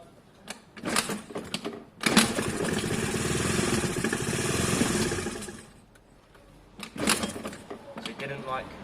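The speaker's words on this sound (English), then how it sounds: "because it idled last time, does it rev?" A small engine with no auto choke revs up hard, holding a strained buzzing roar for a few seconds before dropping back. Sputtering bursts come before and after, with a voice speaking nearby.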